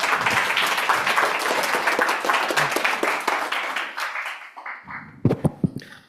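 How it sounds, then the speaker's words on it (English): Conference audience applauding a speaker at a summer school on the Kyoto School, with sustained dense clapping filling a room that fades out toward the end, followed by a few isolated claps. "Please give him a warm applause"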